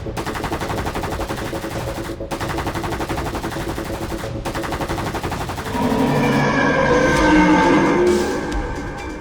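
Rapid machine-gun fire rattles continuously in long bursts with brief pauses, then gives way to a louder whooshing, rumbling blast.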